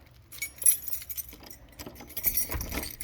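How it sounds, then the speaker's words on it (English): A bunch of keys jangles and clinks close by while someone works through them to unlock an office door, with irregular metallic rattles over about three seconds. "If I can get through these keys"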